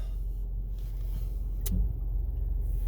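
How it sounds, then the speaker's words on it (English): A truck passing on a road, heard as a steady low rumble of engine and tyres that swells slightly toward the end, with one brief sharp click midway. "that's not the police. It's just some kind of truck"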